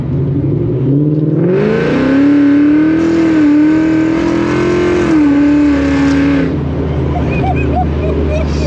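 A Whipple-supercharged, Coyote-swapped Fox body Mustang accelerates hard from inside the car, its loud engine and supercharger whine rising in pitch, then dropping as it downshifts before easing off, with a voice briefly heard under it.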